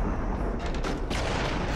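Gunfire in the VR shooter Until Dawn: Rush of Blood sounds as a quick cluster of sharp shots over a dense, rumbling game backdrop.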